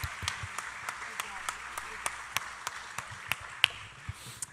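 A church congregation applauding during a Tuesday service: steady, evenly spaced claps ring out at a regular beat over a continuous background of room sound.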